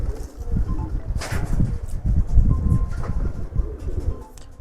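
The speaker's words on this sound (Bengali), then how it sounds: "তো নটটা ডাকতেছে মাদিটার সাথে" A male pigeon coos nearby to a female in repeated low, throaty bursts, with faint rustling around it.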